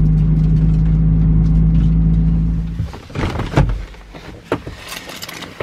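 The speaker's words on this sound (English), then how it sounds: "This is honestly the first time I've driven the car legit on the road in probably 3 months" A Toyota Camry, on cold-unrated tires, hums with a steady low engine drone that cuts off after about three seconds, followed by scattered clunks and rattles like a door and keys.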